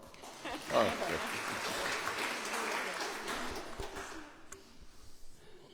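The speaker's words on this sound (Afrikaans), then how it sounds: "Gee julle self 'n hande klap" A church congregation applauds itself during a Sunday service, a full wash of many clapping hands that swells and holds for a few seconds before thinning out, with voices mixed in.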